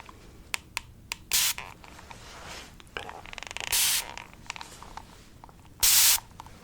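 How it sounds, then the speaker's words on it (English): A spray bottle mists water onto a head in an ASMR setting, giving three sharp, close hissing bursts among soft tapping and clicking sounds, with no talking. "I'm just gonna spray your head."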